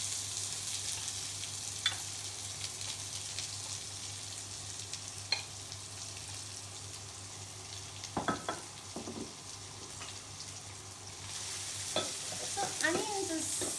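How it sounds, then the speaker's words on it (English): Finely chopped onions and cumin seeds fry in a pan with a steady, quiet sizzle, broken by a few soft clinks and stirring scrapes near the end. "And now I will add the finely chopped onions."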